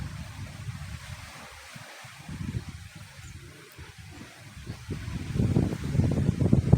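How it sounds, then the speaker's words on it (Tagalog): Wind and waves at a beach roll and rumble in low, uneven surges that build louder toward the end, with gusts buffeting the microphone. "Mahangin na dito."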